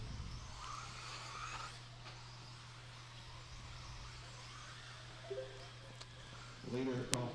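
Race cars circle a racing circuit at a distance under a steady engine drone, with a commentator talking throughout and a brief sharper burst of engine noise near the end.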